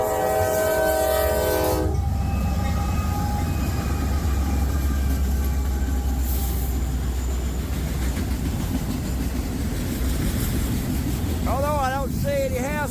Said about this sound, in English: I believe he's a hazmat train